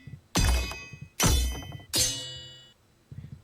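Three heavy weapon-block impacts from the video game Alyria land in sequence, each a sharp loud thunk with a ringing metallic tail, followed by a faint softer knock.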